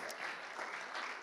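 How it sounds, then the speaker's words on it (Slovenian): Audience applauding at a launch event in Ljubljana, a soft, steady patter of many hands clapping, faint and distant. "Prosim, če se mi pridružijo Ajda Marič, pa en aplavz, prosim."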